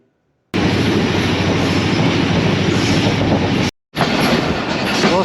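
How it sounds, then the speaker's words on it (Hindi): A Badar Express passenger train in Pakistan rumbles along steadily with loud wheel and carriage noise, briefly cut off by a short gap before the roar resumes as it begins to slow. "ट्रेन स्लो हुई है"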